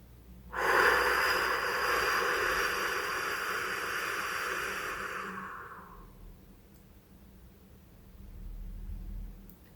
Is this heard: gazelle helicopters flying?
no